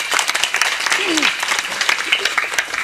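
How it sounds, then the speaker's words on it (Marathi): A crowd at a devotional kirtan gathering claps in a sustained burst of applause for a mridang master, with sharp individual claps standing out and a voice carrying on over the clapping. "एकदा जोरदार टाळ्या होऊ द्या बघा."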